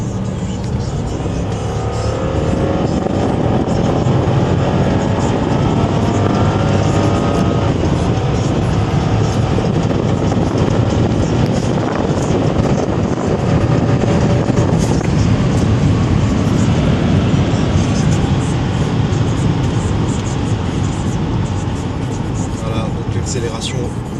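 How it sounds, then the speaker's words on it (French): A Cadillac Seville STS with a 4.6L V8 kicks down and accelerates hard, its engine roar building into a loud, sustained rising drone with road and wind noise over about twenty seconds, heard from inside the car with someone talking over it. "Je vais accélérer. On va faire un kick down."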